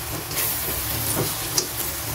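Bitter melon and egg frying in a pan while being stirred, a steady close hiss and sizzle with a brief scrape of utensil near the middle, no voices.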